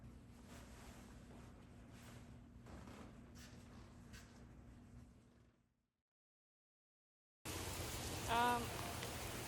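Rain falls steadily outdoors, a soft continuous hiss of drops. It fades out into a few seconds of silence, then returns louder and closer.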